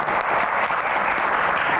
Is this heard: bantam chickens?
no